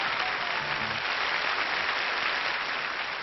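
Studio audience on a 1998 French television show applauding, a steady, even wash of dense clapping that fills the whole short stretch without pause, with only a faint murmur of voices beneath.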